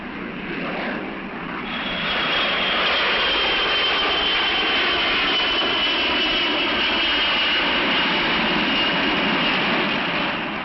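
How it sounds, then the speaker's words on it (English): A jet aircraft roars steadily and loudly, rising in the first seconds to a sustained engine rumble with a faint high whine. "an average of 5 airplanes are taking off or landing somewhere in these United States."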